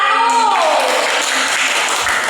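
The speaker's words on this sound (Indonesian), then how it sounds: "Tepuk tangan untuk kelompok 1" Classroom applause for a group of students, loud dense clapping from the class that rises quickly and carries on steadily, starting over a brief tail of voices.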